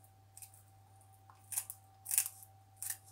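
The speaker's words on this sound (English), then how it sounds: "I'm going to cut at the back here the bones away. I'm going to cut the bones off." Scissors snipping the bones off a cleaned fish in a kitchen: a few quiet, crisp crunching snips, spaced irregularly and close by, with a faint steady hum underneath and no talking.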